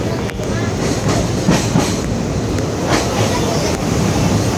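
Train running on the tracks near the India–Bangladesh border, a steady rumbling clatter of wheels heard from inside a carriage with faint rhythmic knocks.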